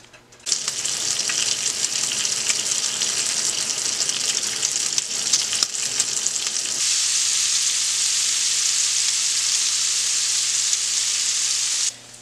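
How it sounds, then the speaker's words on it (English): Chopped celery and onion sizzle loudly in rendered bacon fat in a pot, a dense continuous frying hiss that grows stronger and steadier partway through. "We can then put our celery and onion into that bacon fat there and cook it up"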